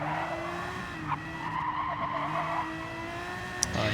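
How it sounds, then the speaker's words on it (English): Race car tires squealing at Road Atlanta in a racing video game, a sustained screech over steady engine drone that carries through the whole stretch, with a faint voice speaking underneath. "You just hear that his tires squeal."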